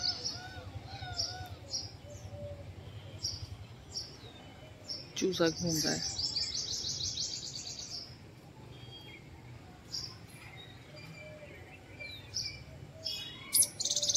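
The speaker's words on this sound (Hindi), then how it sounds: "बोल रही है गौरैया चिड़िया चिरोटा," House sparrows chirp outdoors near a palace gate, with repeated short high tweets scattered throughout, a denser burst of chatter midway, and a person speaking briefly over the birdsong.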